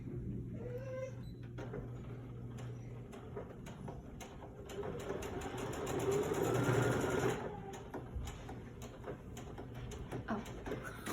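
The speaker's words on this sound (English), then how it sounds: "Take it back to my machine, and I just have to sew just that little bit" A home sewing machine stitching a short quilt seam, with a steady mechanical whir and rapid needle clatter that swells in the middle and then stops.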